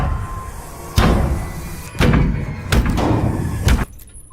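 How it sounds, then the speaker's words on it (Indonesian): Several loud wooden thuds and clattering knocks of a door being hurriedly locked in a horror film, coming in quick bursts about a second apart before stopping abruptly. "si Betty yang ketakutan pun bergegas mengunci pintu."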